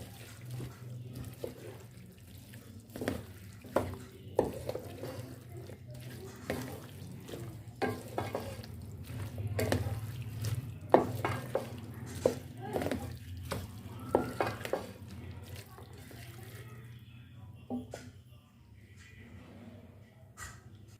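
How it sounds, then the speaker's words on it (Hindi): Capsicum stirred and fried with mixed vegetables in a pot for vegetable pulao, a low sizzle under frequent clattering scrapes and knocks of a spoon, which grow quieter near the end. "अब इसमें हम शिमला मिर्च डालेंगे और इसको हम अच्छे से मिक्स कर लेंगे।"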